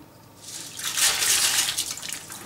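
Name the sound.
rinsing mung bean sprouts in water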